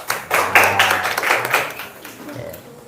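A classroom group applauds after a student presentation, a short burst of clapping over murmuring voices that fades out within a few seconds.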